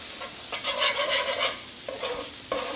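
Butter sizzles on a flat griddle as bread toasts, a steady hissing fry with bursts of crackle that swell and fade, fairly close and alone with no voices.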